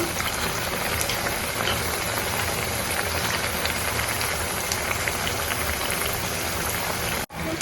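Potato bajji deep-frying in hot oil for tea shop snacks, a steady dense crackle and hiss that runs unbroken and fairly loud, cutting off briefly near the end.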